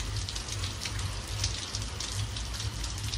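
Steady, dense rain falls on a road during a wet ride home, a loud, continuous hiss with no pauses and no voices.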